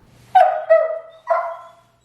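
Dog barking at a cleaning brush: three close, loud, whiny barks in quick succession, the last slightly separated, followed by silence.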